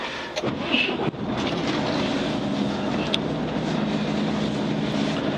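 A Volvo FH truck idles steadily after starting, a low continuous engine rumble close by with a few brief clicks and knocks over it, no talk.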